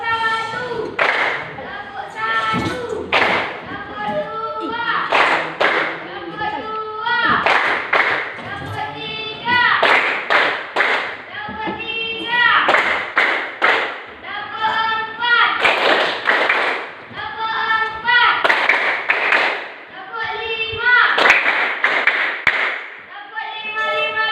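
Group hand clapping in steady rhythmic bursts during an ice-breaking activity, with the claps mixed in under voices chanting and talking together throughout.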